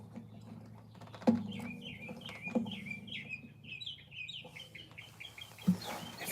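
Chickens cluck and chirp in a steady run of short, bright calls at moderate distance, punctuated by a few soft knocks.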